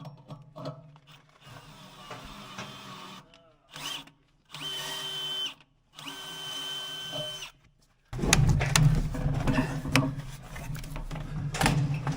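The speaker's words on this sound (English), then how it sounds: "We got to drill it and tap it" A power drill runs in several bursts with pauses between, drilling into a metal baler bracket, then a louder, rougher grinding stretch of drilling near the end; workshop clatter around it.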